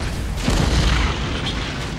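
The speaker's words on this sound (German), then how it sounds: "Dann machen wir mal ein bisschen kontrollierte Explosion da drauf." A deep controlled explosion boom in Batman: Arkham Asylum, a heavy low blast swelling midway and rumbling on, with no talking.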